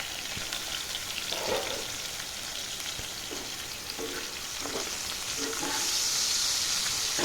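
Bitter gourd fries in a pan with a steady oil sizzle and crackle close at hand, joined by a few soft stirring scrapes and light spatters over several seconds.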